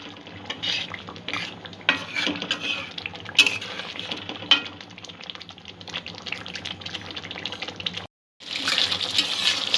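Malai egg curry simmers in coconut milk on a medium flame, with a steady bubbling hiss and occasional stirring clinks. The sound cuts out briefly near the end.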